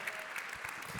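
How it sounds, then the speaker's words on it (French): An audience applauds at an awards ceremony in the Grand Rex cinema in Paris, a brief, steady burst of many hands clapping, moderately distant and soft. "je voudrais que l'on applaudisse toute l'équipe du Grand Rex"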